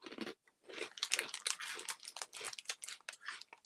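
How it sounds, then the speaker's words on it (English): Close, crisp crunching and chewing of crunchy food, irregular bites and crackles in quick succession with brief pauses. "cover your ears if you don't like the sound of people eating"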